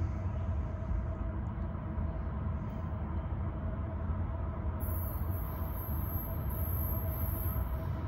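A freight train of grain cars rolls slowly past, a steady, continuous low rumble and rolling drone with faint metallic squeals at the top, heard from a short distance.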